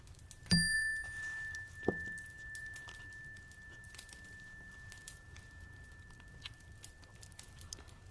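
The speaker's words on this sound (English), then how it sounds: "we're going to start with a little chime." One bright chime rings out to open a healing meditation, its clear tone sustaining and slowly fading for several seconds, followed by a softer second strike, over a quiet background with no speech.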